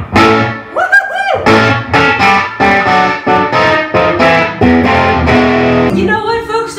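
Rickenbacker 650D electric guitar played through a Fender Deluxe amp turned up to 7 for distortion, loud sustained overdriven chords and riffs strummed in steady bursts, close and alone with no talking.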